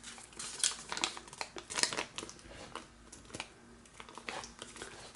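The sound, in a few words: paper being creased and folded for origami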